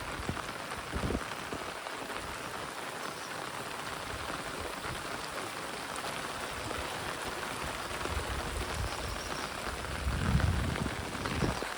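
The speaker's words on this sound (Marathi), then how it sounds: "जोर वाढवते पाऊस." Rain falls steadily in a soft, even patter, with a brief low rumble near the end.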